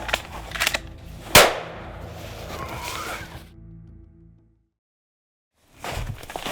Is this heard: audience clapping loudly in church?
no